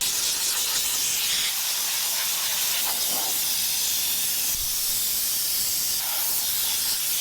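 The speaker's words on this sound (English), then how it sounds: "We'll fire up the steam cleaner, pull all the mats out, start going to town." A steam cleaner hisses loudly and continuously while a Chevy Silverado truck's interior is detailed, with a constant close spray of steam and no talking.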